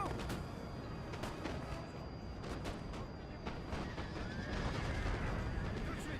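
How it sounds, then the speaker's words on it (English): Artillery fire in a Napoleon Total War battle between Prussia and France, a dense rumble of distant cannon and musket volleys with scattered sharp cracks, steady and continuous at low level. "Artillery makes this battle so cinematic."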